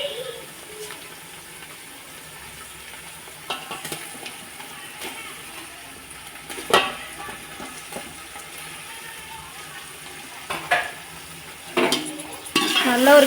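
Tomatoes frying in a pan for chicken biryani, with a low continuous sizzle and occasional scraping stirs that get louder and busier toward the end.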